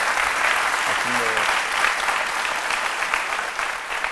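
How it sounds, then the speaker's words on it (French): A studio audience on a TV talk show breaks into loud, continuous applause, a steady wash of clapping that holds throughout, with a brief voice underneath. "un vrai carton qu'il faut saluer avec des applaudissements"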